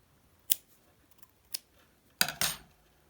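Scissors snipping yarn while knitting a baby cardigan, a few sharp close metallic cuts with quiet pauses between them and a final double snip.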